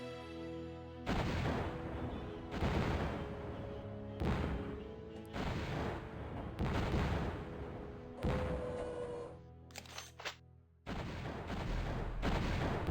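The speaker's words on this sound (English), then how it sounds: "Ronin, firing, missing." Ronin rocket robots fire in the real-time strategy game Zero-K, heavy booming launches and explosions repeating every second or two, loud and dense with brief lulls, no voices.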